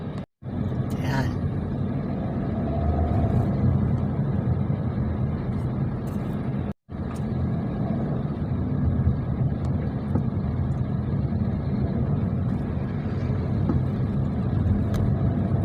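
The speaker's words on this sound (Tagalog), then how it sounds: "nakasakay tayo sa kotse papunta ng Panda Cleaner" Steady low road rumble and engine drone from inside a moving car on the way to a cleaning shop, continuous and fairly loud for the whole stretch, with two very brief dropouts and faint voices now and then.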